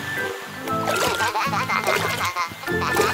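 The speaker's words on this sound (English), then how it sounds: "Splashes." Cartoon fountain splashing and gurgling as a water tanker pumps water into it, a busy watery spatter with bright musical tones and effects layered over it.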